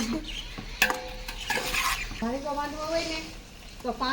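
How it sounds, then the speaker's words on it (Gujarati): Cabbage and carrot sambharo is stirred in a pan, with intermittent scraping and clinks of a spoon against the metal over a faint sizzle, and a person talks over much of it. "કોબી હવે વ્યવસ્થિત મિક્સ થઈ ગઈ છે અને સંભારો આપણો થઈ ગયો કમ્પ્લીટ હવે સંભારાને આપણે હલાવી"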